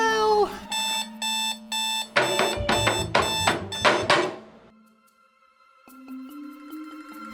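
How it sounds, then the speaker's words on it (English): A morning alarm clock goes off with repeated electronic beeping in short pulsed bursts, then a denser ringing run that fades, followed by softer tones, close and loud with no talking. "first my alarm goes off."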